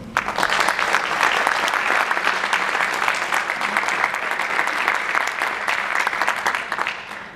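Sustained applause from an audience at a centennial celebration, many hands clapping in a dense, even roar that carries on for several seconds at a steady, fairly loud level.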